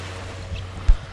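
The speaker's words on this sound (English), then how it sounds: "Oh my God, I love the waves crashing." Ocean waves washing onto a beach strewn with driftwood, a low continuous rumble of surf with one brief thump of a breaking wave, heard close by and without speech.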